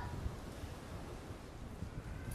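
Wind gusts across a shoreline archery range in Antalya during a 2018 women's recurve gold medal match, a steady low rushing roar buffeting the microphone, with no clear voices.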